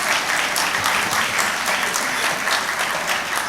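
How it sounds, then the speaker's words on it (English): Dense, steady applause from a conference audience fills the hall at the opening ceremony of a 2025 annual law conference in Lagos. It holds at an even level throughout, with no voices over it. "So if you want to clap, clap."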